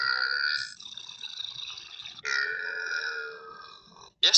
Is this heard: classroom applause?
no